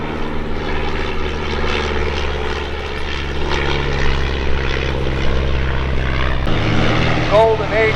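A de Havilland Tiger Moth, an antique British biplane, drones overhead with its propeller engine running in a steady, loud hum that holds throughout, a brief shift near the end, voices faint beneath it at an antique airplane aerodrome.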